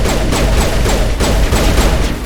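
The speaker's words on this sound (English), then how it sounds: "Why am I using a sniper rifle 5 feet away?" Rapid, close gunfire from a sniper rifle in the Mass Effect video game, crackling in dense repeated bursts over a loud, busy battle mix with no clear pauses.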